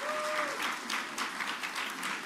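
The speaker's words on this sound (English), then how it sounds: "Let's give them a round of applause." Audience applauds legislators at a bill-signing event honoring Holocaust survivors, a steady wash of clapping from a crowd that holds at even volume throughout, moderately distant.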